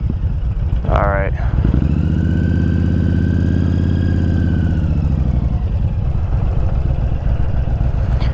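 A Honda Fury motorcycle engine starts up with a brief cranking whir, then idles loudly and steadily up close for several seconds before shutting off into quiet.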